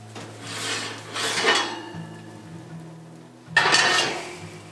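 Serrated knife scoring a sourdough loaf in a glass pan, three short rasping strokes with soft scraping, close and fairly quiet with a low steady hum beneath.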